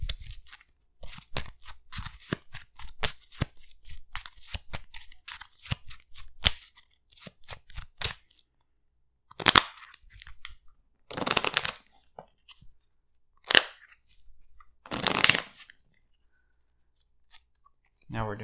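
Arkham Horror card game cards are shuffled on a table in a series of crisp riffling bursts and flicks, close and loud, with quiet pauses between them.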